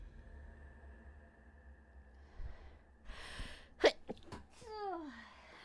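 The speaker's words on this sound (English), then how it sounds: "I feel a sneeze coming." A single sharp sneeze bursts out, preceded by a few quick breaths and sniffs and followed by a faint trailing vocal sound, against a quiet background with a low steady hum.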